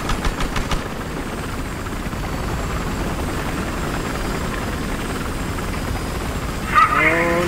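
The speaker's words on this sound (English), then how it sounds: "Inbound transport chopper spotted." A transport helicopter in a video game, its rotor and engine drone steady and moderately loud throughout, with a few brief sharp sounds at the start and near the end.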